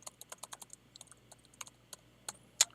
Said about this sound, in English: I'm just going to type a comment